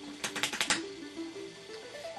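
Fingers tap computer keyboards in a quick run of about six crisp clicks, then stop, leaving faint tonal electronic sound underneath.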